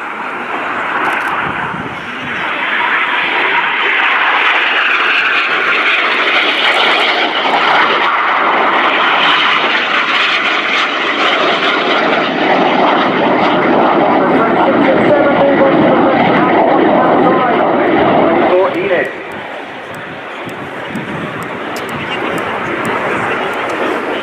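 RAF Red Arrows jet aircraft flying an airshow display at RIAT 2018, a loud sustained roar of jet engines that swells and holds, then drops off sharply before continuing more softly.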